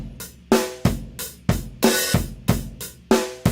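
A looped drum pattern programmed in Ableton plays alone, with punchy kick hits and bright snare and hat strikes repeating in a steady, even groove at identical loudness.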